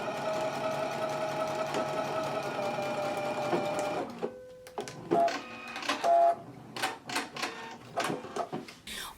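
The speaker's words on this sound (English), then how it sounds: "So we're going to stitch through this circle about 1 inch above it and 1 inch below it." A sewing machine stitches through fabric to reinforce a circle on a skirt, a loud steady chattering run of about four seconds, then short bursts and clicks as the work is adjusted.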